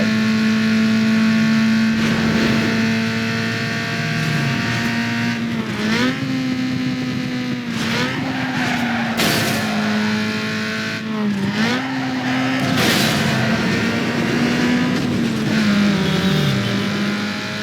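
Car engine in Need For Speed Underground 2 revving loudly and steadily through gears with a manual transmission, pitch rising and dipping at shifts, with occasional tire squeal over continuous racing game audio.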